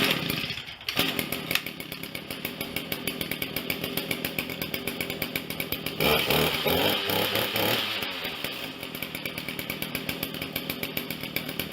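After a carburetor repair, an ECHO chainsaw starts and runs, its small two-stroke engine buzzing loudly close by, idling in a rapid pulsing rhythm with a brief rev partway through.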